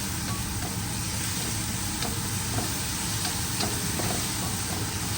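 Dried fish (shutki) sizzles with garlic in a hot pan, giving a steady, loud, close frying hiss with faint stirring clicks and no voices.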